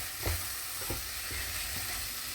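Okra curry with masala and chili powder sizzles in a pan as it is stirred, soft scraping strokes in an uneven rhythm over a constant quiet frying hiss, no talk.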